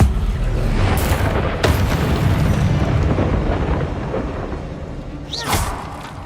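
A Confringo fire spell blast in the Hogwarts Legacy video game, a loud booming explosion with a rumbling roar that fades over several seconds, followed by a second sharp burst near the end.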